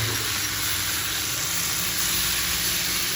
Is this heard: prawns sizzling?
yes